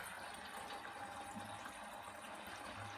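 Water gushing and gurgling out of a Vaillant ecotec 937 boiler drain into a bucket, with air being sucked through an orange pipe; a steady, continuous rushing flow throughout.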